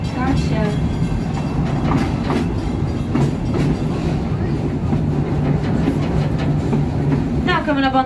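A Busch Gardens Tampa Bay park train rolls along its rails with a steady, loud rumble and rhythmic clickety-clack of wheels over track joints, continuous throughout.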